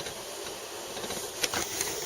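Steady, close hiss of steam rising from potatoes steaming in a pot on a home stove, continuous and even, with a few brief brighter bursts near the end and no talking.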